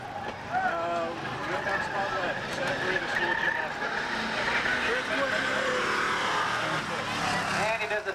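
A 1967 Camaro race car laps Saugus Speedway, its engine a steady sustained roar throughout with a brief tire skid, while an announcer talks over the top.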